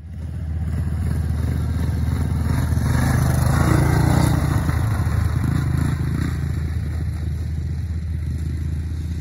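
Yamaha YTM200 three-wheeler from the 80s with a replacement carburetor, its small engine running and revving up then settling, steady and fairly loud close by with some rattle and no talking.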